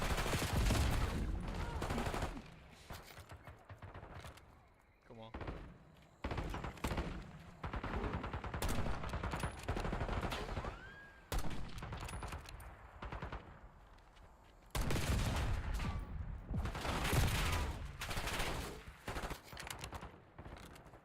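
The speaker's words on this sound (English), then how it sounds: "these bots are shooting the piss out of me" Bots unleash bursts of automatic gunfire in a Call of Duty match, loud rapid volleys repeating across the whole stretch with short gaps between them and occasional footsteps.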